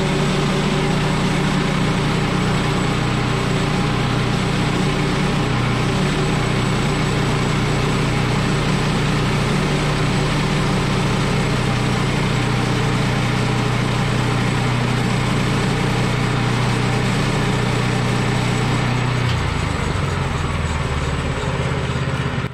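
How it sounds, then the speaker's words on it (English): A sawmill cuts lumber from a log, working close to a steel clamp. A loud, steady engine-like drone with a deep rumble runs continuously for about nineteen seconds, then eases off near the end. "Sawing so close to steel makes me nervous."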